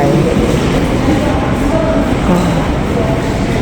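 A subway train pulls into a station in South Korea with a loud, steady roar and rumble that fills the platform, close and continuous, with a faint voice underneath.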